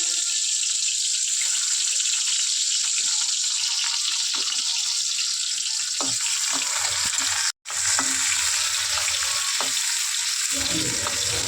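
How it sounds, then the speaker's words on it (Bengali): Onions sizzle steadily in hot oil in a pan for Bengali cooking, a continuous loud crackling hiss with a brief dropout partway through and a few faint clinks. "পেঁয়াজটা ভেজে নেবো"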